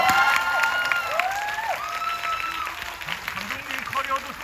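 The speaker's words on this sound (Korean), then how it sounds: "야, 박수가 작잖아." Audience applause and cheers at a film screening Q&A for the movie Hunt, a moderate crowd clapping with scattered shouts while people talk over it.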